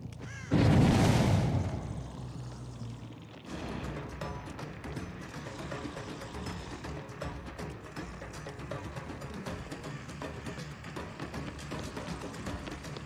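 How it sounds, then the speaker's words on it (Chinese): A loud cannon boom bursts out near the start in the video game Dead by Daylight, then gives way to a steady, busy wash of game noise for the rest. "这个好像是大炮"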